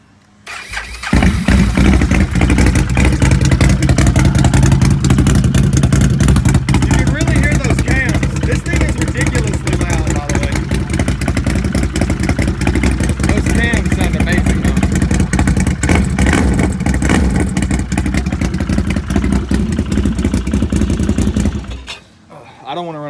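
A new Renegade engine fires up and keeps running loudly for about twenty seconds, a steady rough mechanical roar close by that cuts off abruptly at the end.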